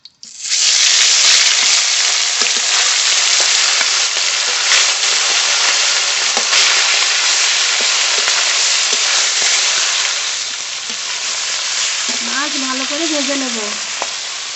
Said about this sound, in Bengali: মাছ ভাজা হতে থাকে থাকুক কড়াইতে